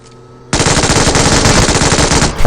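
MG3 machine gun in a battle royale video game, starting abruptly after a quiet moment and then firing a loud, sustained rapid burst for about two seconds with no pause.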